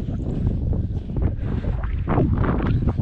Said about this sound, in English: Got a really good wind.